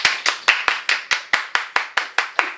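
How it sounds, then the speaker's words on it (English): A group claps in unison at a steady, even rhythm, about a dozen sharp, close claps spaced evenly apart, with no talking over them. "Everybody clap your hands."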